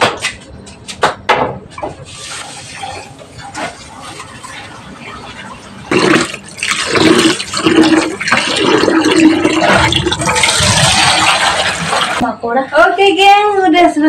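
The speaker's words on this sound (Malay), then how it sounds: "cuci beras" Rice being washed by hand in water, with splashing, swishing and pouring sounds that grow busier in the middle section, mixed with nearby voices and knocks.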